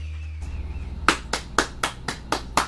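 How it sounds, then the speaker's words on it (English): Several sharp claps land in a steady rhythm, about eight evenly spaced smacks, close and crisp after a brief low hum. "Yes, we're clapping. We're clapping."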